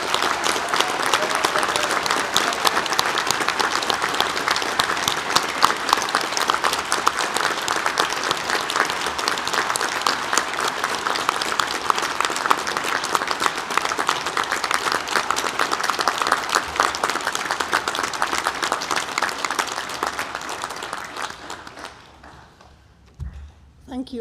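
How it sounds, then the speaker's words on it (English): Audience applause greets new graduates at a Charles Sturt University graduation ceremony: steady, dense clapping from a large crowd that lasts over twenty seconds before fading away. "And now I'll invite our new graduates, please, to receive a huge round of applause."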